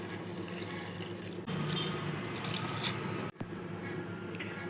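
Water poured from a large cup onto basmati rice and vegetables in a pot for vegetable biryani; a continuous rushing pour swells midway, then cuts off briefly before resuming.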